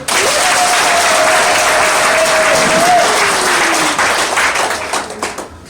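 An audience at a church gathering bursts into dense, loud applause that holds steady and then thins out toward the end, with a raised voice calling out briefly over the clapping.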